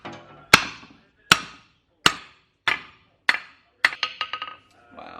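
Sharp metal hammer blows on a ball joint splitter fitted to a car's suspension, six spaced strikes ringing out close and loud, then a quicker burst of lighter taps near the end.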